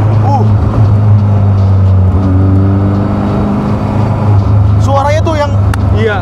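A Caterham sports car engine roars loudly from inside the cabin, its pitch climbing and falling as the wheels spin, while people talk over it and a sharp squeal comes near the end.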